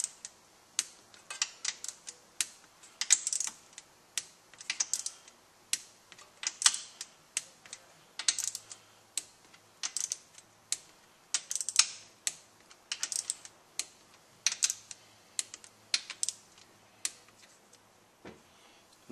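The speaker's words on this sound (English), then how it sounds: "Now with a torque wrench set at 80 inch-pounds, you're going to torque the bolts that you just installed." Torque wrench clicking as transmission valve body bolts on a Subaru 5EAT are tightened to 80 inch-pounds; a steady series of sharp close clicks and ratchet ticks repeats throughout, with no talking.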